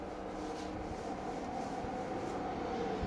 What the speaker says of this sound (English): It's getting very loud, very noisy when they pump the concrete up.